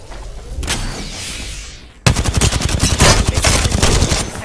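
Rapid automatic gunfire from Apex Legends, a dense run of loud, close shots after a quieter stretch of distant firing, with no talk over it.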